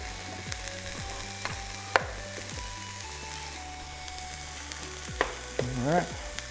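Breakfast burrito filling frying in a pan on a stovetop, a steady low sizzle with scattered clicks and scrapes of a utensil, close and moderate, no talking.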